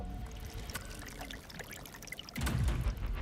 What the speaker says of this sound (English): Streams of water run down into the crevices, collecting at the bottom of the glacier.